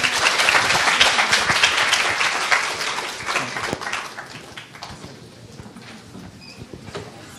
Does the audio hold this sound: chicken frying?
no